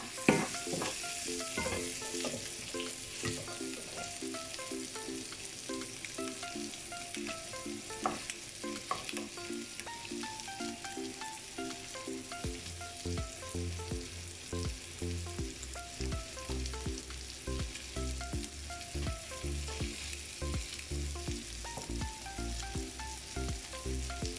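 A spoon or spatula mixes chicken pasta in a frying pan, with continuous sizzling and repeated scraping strokes beneath a steady musical backing and no talking.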